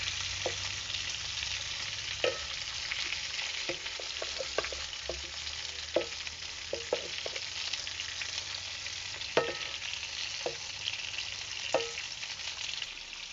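Bitter gourd sautés in a pan with a soft, continuous sizzle, and scattered utensil taps and scrapes sound at irregular intervals.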